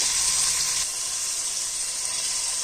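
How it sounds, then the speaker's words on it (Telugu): Tomato pieces tipped into a hot pan of cooking vegetable rice, giving a loud steady sizzle that surges briefly as they land and then settles into continuous frying hiss. "ఇప్పుడైతే టమోటా ముక్కలు యాడ్ చేస్తున్నానండి"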